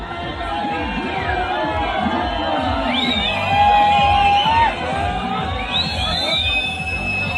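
A crowd at a 20 km baige horse race in Kazakhstan whoops, yells and cheers continuously. Several shouts rise and carry loudly through the middle of the clip.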